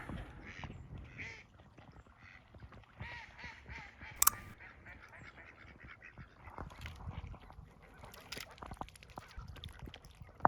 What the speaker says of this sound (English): Look at these little ducks we got here.